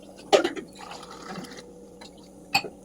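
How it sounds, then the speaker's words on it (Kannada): Water from a glass poured into a pot of soaked rice for Dindigul vegetable biryani, a short splashing pour, then light drips and a faint clink near the end, close and quiet. "2 ಗ್ಲಾಸ್ ನೀರು ಹಾಕೋಣ ಇವಾಗ."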